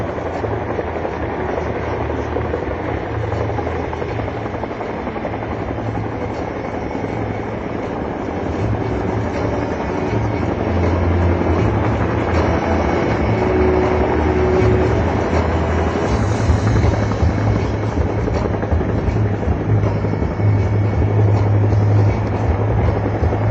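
Military Chinook helicopters hovering in place during a display: a loud, continuous, close rotor and engine drone with steady low throbbing that swells slightly partway through, with no talk.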